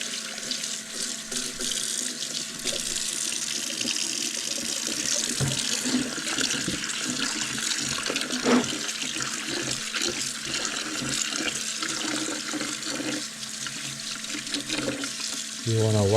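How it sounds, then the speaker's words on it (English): Tap water runs steadily over freshly picked produce being washed in a sink, a continuous close splashing rush with a voice talking faintly underneath. "You want to wash these pretty good because I just picked them up from outside"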